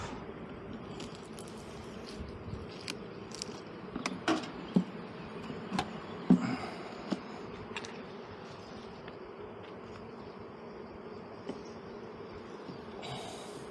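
Honey bees buzzing around an open hive box during a spring inspection, a steady low drone throughout with occasional brief taps and knocks of the frames close by.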